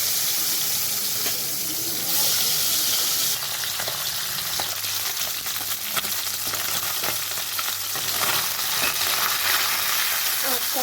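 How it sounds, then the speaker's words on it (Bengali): Steady, dense sizzling of bele fish frying in hot oil fills the whole stretch, a constant crackling hiss with occasional small pops and no talking. "তেলটাও গরম হয়ে গেছে তো এখানে ভাজার জন্য মাছটা দিয়ে দিচ্ছি"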